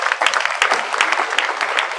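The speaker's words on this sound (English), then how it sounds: "I think Professor Udoakah deserves another round of applause" Dense audience applause at an academic conference on political communication, honoring Professor Udoakah; many hands clap steadily and loudly for the whole stretch with no talk over it.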